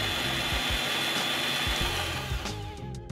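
Walter IceCut 250P cutting machine with its motor running forward (clockwise), a steady loud mechanical whir with low rhythmic thumps, easing off slightly near the end.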